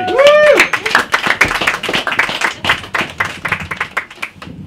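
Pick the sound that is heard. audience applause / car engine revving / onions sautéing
audience applause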